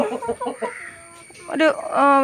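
Backyard chickens clucking and squawking close by, a run of short clucks followed by louder drawn-out calls, with no speech over them.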